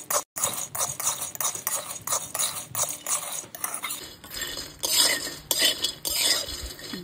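Makhana, cashews and almonds are stirred in a pan as they dry-roast, with repeated scraping and clinking of a utensil against the metal in an uneven rhythm, close and fairly loud throughout.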